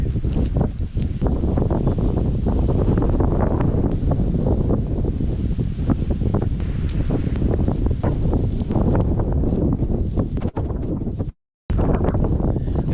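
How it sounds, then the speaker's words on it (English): Strong wind buffets the microphone in loud, continuous gusts at a marsh in Texas, with rustling and scattered knocks and a brief dropout near the end. "It's starting to get a lot more windy here."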